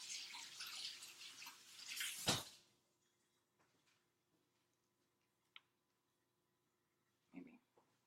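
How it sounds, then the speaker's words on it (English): Cold tap water runs over popsicle molds in a kitchen, a soft steady hiss lasting about two seconds before a sudden stop, followed by near silence with a few faint clicks. "You just run them under cold water."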